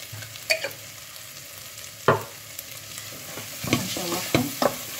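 Cloves sautéing in hot oil for basmati rice, a soft continuous sizzle punctuated by a handful of sharp clinks and scrapes as a spoon stirs the pot.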